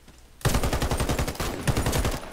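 An MSBS Radon assault rifle fires in the Warface video game as a rapid, continuous automatic burst, loud and close, lasting about two seconds after a brief quiet start.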